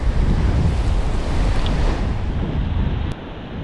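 Steady wind buffeting the microphone and surf washing against a rocky shore during a cold snap while fishing, a continuous loud roar that eases slightly near the end.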